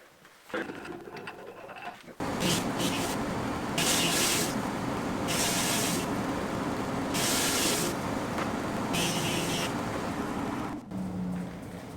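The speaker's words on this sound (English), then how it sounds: "So now the machine is now a thickness planer." Thickness planer feeding a wooden board for a cutting board, a loud steady roaring hiss that starts abruptly, with repeated surges as the cutter bites, then drops off near the end.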